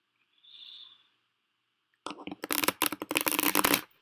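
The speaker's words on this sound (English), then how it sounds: "Get a good shuffle for this first round." After a faint, brief hiss and a pause, a deck of tarot cards is shuffled briskly up close, a burst of rapid riffling and flapping.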